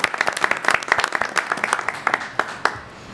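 Applause from a school committee meeting audience welcoming new staff, a small group clapping in quick uneven bursts close by before fading out.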